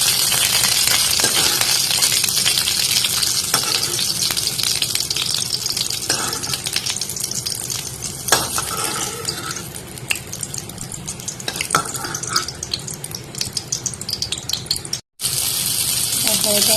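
Cauliflower frying in hot oil in a pan, with a steady sizzling hiss throughout and occasional clinks of a spoon and lid, continuous and close, briefly cut off near the end.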